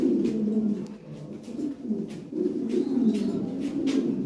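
Lahori Sirazi pigeons, a breeding pair, coo in low, soft rolling calls close by, continuous and overlapping throughout with no talk.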